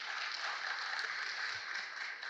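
Audience at a Madhya Pradesh event applauds to welcome Chief Minister Mohan Yadav, a steady, dense wash of clapping from many hands that holds at an even level throughout.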